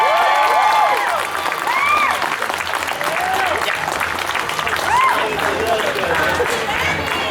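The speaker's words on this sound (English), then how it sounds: "let's give it up one more time for Danny Gonzalez" Audience at a comedy show applauding after a comedian's set, a dense, sustained wash of clapping with some cheering, while a voice talks over it throughout.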